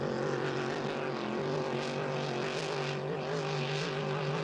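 Vintage Dynasty GP-242 racing hydroplane from the late 1980s to early 1990s running at a vintage boat race in St-Félicien, a continuous loud engine roar with steady harmonic drone and slight surging, heard alone throughout.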